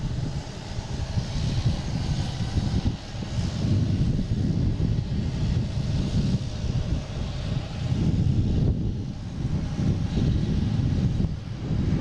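An American Airlines A321 jet takes off at Boston Logan, its engines giving a steady, loud, rumbling roar with broad wind-like noise throughout.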